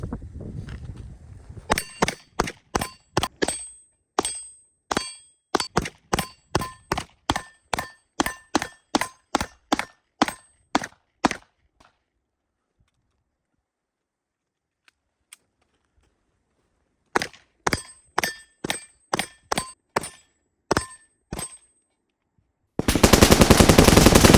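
An H&K P30 pistol fires a long run of sharp, evenly spaced shots at close range. A brief silent pause follows, then a second volley of rapid shots.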